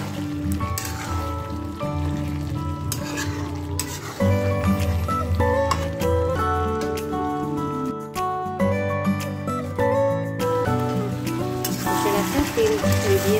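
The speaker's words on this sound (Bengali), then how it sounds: "আর এখন আবার একটু কষাচ্ছি।" Potatoes and meat are sautéed in oil in a pan. A continuous close sizzle of frying with occasional stirring runs under steady background music, with no clear talking.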